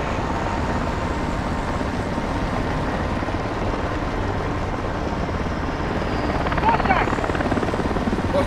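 A helicopter in Call of Duty: Modern Warfare II drones steadily with a dense, constant rotor roar, loud and close throughout, rising slightly near the end, with voices talking over it.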